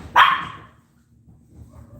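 A dog barks once outdoors, a single sharp, fairly loud bark that fades quickly, followed by quiet background noise and faint distant sounds.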